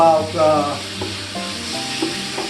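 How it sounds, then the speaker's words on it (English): Lamb pieces sizzle loudly in a hot pan, a steady crackling hiss with a few clinks of a utensil stirring through it, no talking. "we're gonna throw in the meat. We're gonna throw in the agnello"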